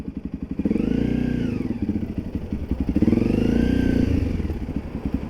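A Honda CRF300 motorcycle idles and revs close by outdoors in Thailand, its engine putting out a rapid throbbing putter that swells into two rising revs, then settles back.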